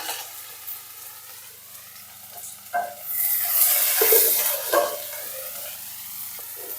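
Whole cumin, peeled garlic, chopped ginger and onion fry in a pan for a butter hilsa spice paste, a low steady sizzle swelling into louder hissing bursts midway with occasional stirring scrapes.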